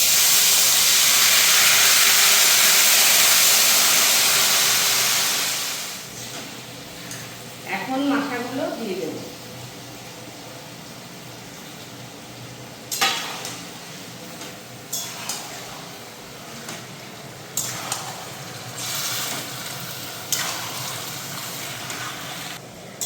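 Drained taro greens hit a hot pan with a loud burst of steamy hissing that fades after several seconds into quieter sizzling, broken by scattered scraping stirs and a brief voice.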